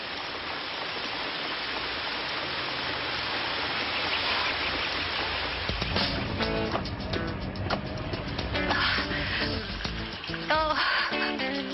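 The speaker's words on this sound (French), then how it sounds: "Il y a même la pluie qui me poursuit alors qu'il y avait du soleil." Steady rain hisses continuously, joined midway by busier mixed sounds of music or activity over the downpour, no clear speech.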